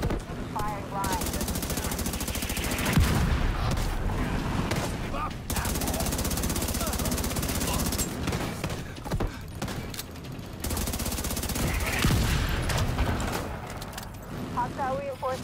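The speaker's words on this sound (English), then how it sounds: "The autocannon seems to be firing blind." Sustained rapid autocannon fire in a military shooter video game, a dense, loud mechanical rattle of bursts running almost continuously with brief pauses, mixed with game voices and effects.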